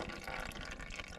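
Hot engine oil from a Honda EU10i inverter generator pours into a drain pan, a faint, continuous liquid trickle and splash lasting just over a second.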